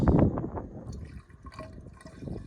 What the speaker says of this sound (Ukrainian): І зараз беремо наш газолін. Заливаємо наше ракетне топливо.